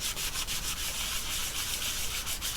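A towel rubs cleaner onto the metal chassis of an HP 9120A during a repair clean-up, making close, steady, rasping strokes in a quick back-and-forth rhythm with no speech.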